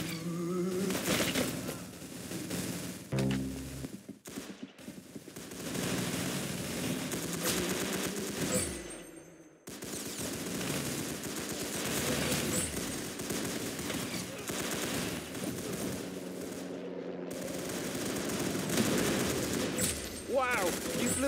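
Video game gunfire keeps up bursts of rapid, machine-gun-like shots that stay loud and near throughout, broken by a couple of short drops, with speech occasionally mixed in.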